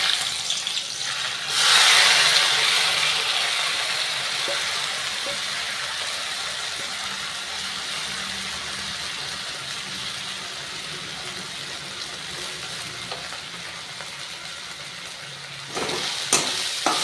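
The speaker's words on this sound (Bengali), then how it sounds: "তো চলুন এবারে কমিয়ে দিয়ে আমি মুগ ডালটা তেলের ওপরে ছেড়ে দিই" Moong dal goes into hot oil in a pan on lowered heat, bursting into a loud, close sizzle that eases into a steady frying hiss, with a few scrapes of stirring toward the end.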